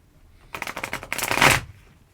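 Tarot cards are drawn and slid from a Goth tarot deck: a quick run of soft papery flicks followed by a longer brushing shuffle, close and clear in a quiet room.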